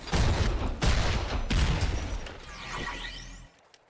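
Dense video game gunfire in Champions of Newerth, rapid loud volleys of shots in close succession for several seconds, tailing into whooshing effects before cutting off.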